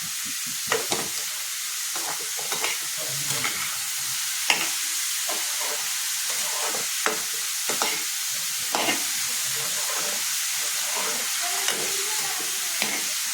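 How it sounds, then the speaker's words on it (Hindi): Pumpkin pieces frying in hot ghee for pumpkin kheer, with a steady close sizzle and repeated scraping strokes of a spoon stirring through the pan, alone without voices. "इसको 2 मिनट अपन इसको घी में अच्छे से भूंज लेते हैं कद्दू को"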